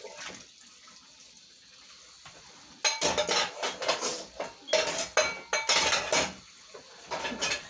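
A baking pan is scrubbed in a kitchen sink with running tap water, with clattering metal pans and cutlery in loud irregular bursts after a quieter start of flowing water.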